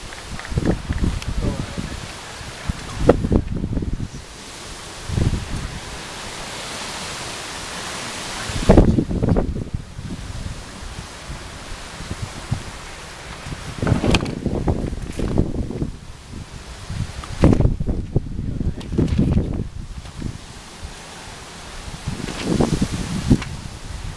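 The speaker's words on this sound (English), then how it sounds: "It's just really windy and just a bit nippy outside" Strong gusty wind buffets an outdoor baseball game in New Carlisle, Indiana, with loud low rumbling bursts of wind noise hitting the microphone in waves over roughly twenty seconds.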